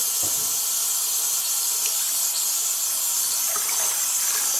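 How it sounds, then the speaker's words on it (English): Water runs steadily from a faucet with an aerator into a basin, giving a constant bright hiss and splashing that stays loud and even throughout. "I'm gonna fill the basin up and go and get some dish soap."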